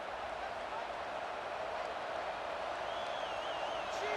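A broad, continuous roar of a large stadium crowd in the video game EA Sports College Football 26, steady and distant-sounding, with faint whistle-like tones rising above it, on third down.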